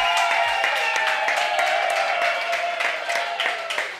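Studio audience applauding and cheering on a French radio comedy show, a dense, continuous wash of clapping with sharp hand claps poking through, loud and steady throughout.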